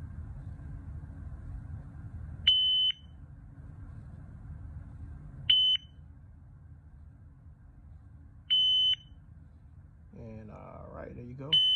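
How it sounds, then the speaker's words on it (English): Special Pie shot timer giving short, loud electronic beeps, four in total and spaced about three seconds apart, over a low background rumble, with a voice speaking briefly near the end. "You should get a beep, a stop, another beep, and then stop."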